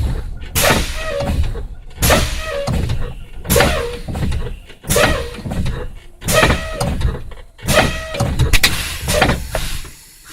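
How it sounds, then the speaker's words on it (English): Rhythmic pumping of a vehicle's air brakes during a spring brake test, each press giving a sharp pneumatic hiss and exhaust burst, about six evenly spaced cycles, close and loud. "I'm going to start pumping my brakes."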